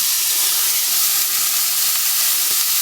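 Onion and yellow capsicum frying in oil in a pan with leftover beef, a steady bright sizzle and hiss that stays loud and even throughout, with a few faint clicks and no talking.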